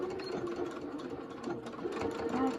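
A sewing machine stitches fabric for a pocket face mask, its steady motor whir and rapid needle chatter running continuously and close by, with no talking.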